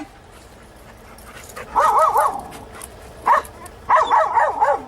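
A dog in training lets out high, wavering whimpers and yips in a few short bursts, close and fairly loud over quiet background noise.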